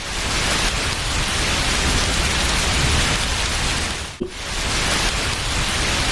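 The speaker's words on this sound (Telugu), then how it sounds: "అయ్యో, వర్షం కూడా స్టార్ట్ అయిపోయింది." Rain falls as a dense, steady hiss of broadband noise that fills the whole scene, broken once by a brief dip, with no voices present.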